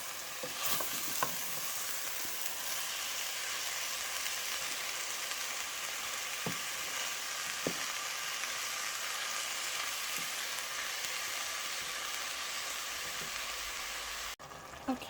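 Chicken ragu sizzles and bubbles in a pan, a steady close frying hiss broken by a few sharp clacks as a utensil stirs it, with no talking.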